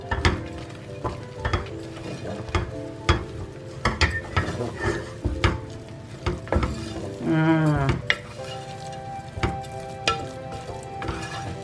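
Boondi for ladoo being mixed in a pan, with scraping and clinking strokes in an irregular rhythm, partly under steady tonal background music.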